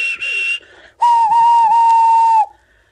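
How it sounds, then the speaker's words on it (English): A steam engine whistle sounds, first a short shrill blast and then a longer steady blast, loud and clear with a slight wavering in pitch. "The engines whistled and called out when they reached the cottage."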